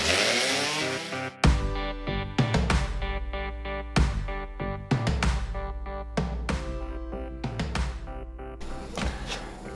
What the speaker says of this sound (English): I'm going to sand them a bit with my rotary sander